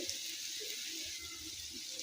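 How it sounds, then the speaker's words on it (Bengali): Water is poured into a pan of frying spices with chopped green chilli and ginger paste, making a soft, steady rushing splash that is fairly quiet and continuous. "আমি এর মধ্যে পানি অ্যাড করে দিব"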